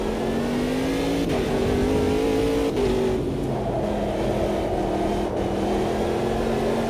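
A race car engine in a racing video game revs hard and steadily, its strained note climbing and dipping through gear changes, loud and continuous with no talk over it.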